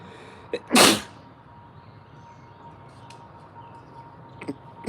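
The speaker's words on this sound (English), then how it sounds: "I go sneezing." One sharp sneeze erupts near the start, loud and close, followed by quiet room tone with a couple of small clicks.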